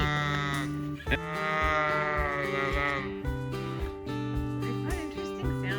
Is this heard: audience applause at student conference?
no